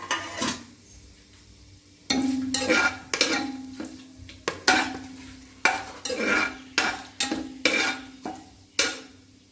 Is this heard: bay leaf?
yes